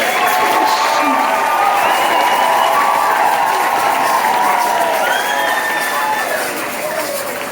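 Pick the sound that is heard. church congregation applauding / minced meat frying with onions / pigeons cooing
church congregation applauding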